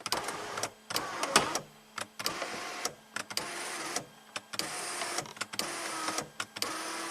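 Tilting sliding sunroof motor on a 2007 Mercedes ML320 CDI whirring in repeated short runs separated by clicks and pauses, close and moderately loud.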